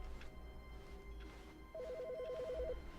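A telephone rings inside the video game The Stanley Parable: Ultra Deluxe, a single electronic warbling trill lasting about a second, faint under low background hum.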